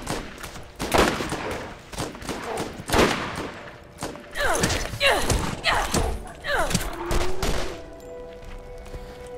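Bursts of gunfire in the first-person shooter Borderlands on PC, rapid repeated shots and thuds across the whole stretch, loud and busy, with voices chattering underneath.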